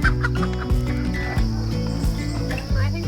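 Chickens in a farm pen cluck steadily and close by, a busy overlapping chorus of clucks and low calls with no talking.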